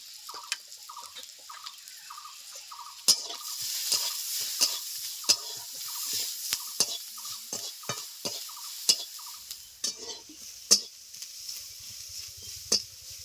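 Chopped ginger, green chili, salt and turmeric powder fry in a pan with a soft continuous sizzle, broken by frequent sharp clicks and scrapes of a spatula stirring against the metal.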